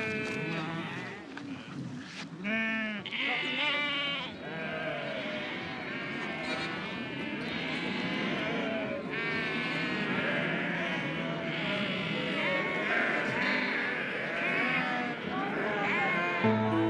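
Goats bleat repeatedly among other livestock at a rural setting where horses are kept, the calls loud and overlapping in a dense, continuous chorus with occasional human voices mixed in.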